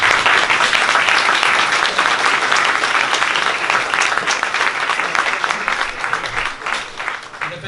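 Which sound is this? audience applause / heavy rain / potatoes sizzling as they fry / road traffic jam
audience applause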